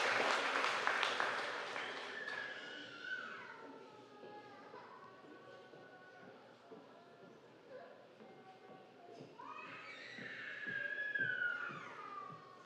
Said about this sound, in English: Please give these outstanding students a round of applause.